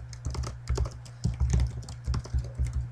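Fingers typing on a computer keyboard in quick, uneven bursts of close clicking keystrokes with short pauses between runs, with no voices.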